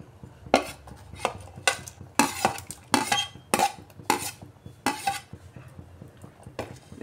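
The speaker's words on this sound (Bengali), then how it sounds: "এই ডাল সিদ্ধর মধ্যে এবার আমি কুচিয়ে রাখা পেঁয়াজ দিয়ে দিচ্ছি।" Chopped onions are dropped and stirred into a pot of boiled dal, heard as a series of sharp metallic clinks and scrapes of a spoon against the pan at irregular intervals, close and fairly loud, with no speech.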